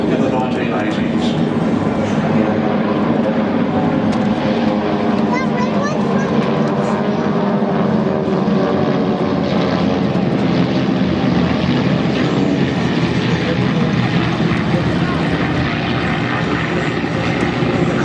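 CT/4A and Winjeel propeller training aircraft make a loud, steady droning flypast at the Avalon Airshow in 2017, with a continuous engine roar throughout and a voice speaking over it.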